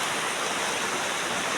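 Steady, dense hiss of heavy rain pouring down, loud and unbroken throughout with no voices.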